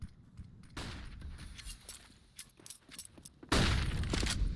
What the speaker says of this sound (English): Loving the flashbangs to jump down in CT